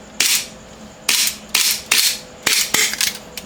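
Sharp airsoft pistol shots from a KJ Works CZ Shadow 2, six cracks fired at an uneven pace, each a loud close bright snap with a short hissing tail.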